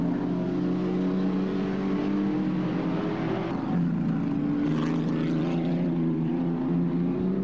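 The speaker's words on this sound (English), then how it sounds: "Number nine going through there, that's Burkhard von Schenk in the Maserati." A vintage post-war Maserati racing car at a Silverstone historic race meeting, its engine droning loud and steady as it passes, the note rising and falling over several seconds with no talk.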